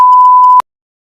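A single steady telephone tone, a clean pure beep lasting just over half a second that cuts off abruptly into silence.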